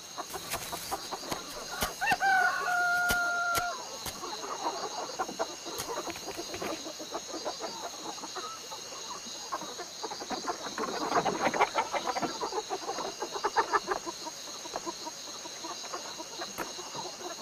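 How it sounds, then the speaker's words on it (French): A rooster crows and clucks right after swallowing a praying mantis, with one clear harmonic crow early on, then scattered clucks and farmyard rustling that build to a busier burst near the middle. "À la vigueur de son chant, ce coq semble particulièrement content de son repas."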